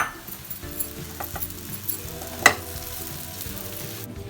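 Roasted dry fruits are stirred into sweet Eid sevaiya in a pan, with soft scraping and stirring through a low background sizzle, a sharp clink of the spoon against the pan near the middle, and no talking.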